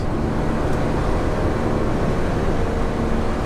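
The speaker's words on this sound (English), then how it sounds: "Just listen to how pure the engine is." Steady, loud low-pitched drone of an Alfa Romeo 4C Track Edition engine running, continuous and even throughout with no talking.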